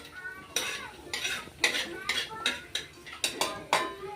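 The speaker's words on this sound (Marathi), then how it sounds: "आता खोबरं पण छान भाजून घेऊ" Grated coconut roasting in a pan for an egg curry, a spoon scraping and clinking against the metal in a regular series of sharp strokes over a faint sizzle.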